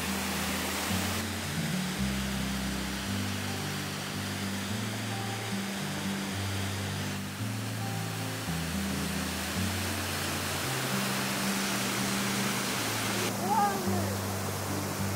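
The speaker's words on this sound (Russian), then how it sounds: "Очень большие волны нас впечатляют." Large sea waves break along the snowy, wild Sakhalin coast, a steady broadband roar of surf with no clear individual breakers, continuous and fairly loud throughout, with faint low rumbling underneath.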